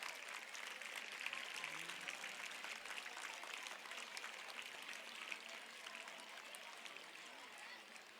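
Sustained applause from an audience welcoming distinguished guests onto the stage at a large Arya Yuva Samaj yajna ceremony, steady dense clapping throughout at moderate distance with no gaps.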